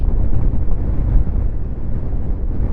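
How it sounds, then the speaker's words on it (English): Strong wind buffets and rumbles continuously during a Suzuki GSX-S1000GT motorcycle ride from Kilcreggan to Loch Lomond, a loud low roar with no voices, steady for the whole stretch. "Windy, isn't it?"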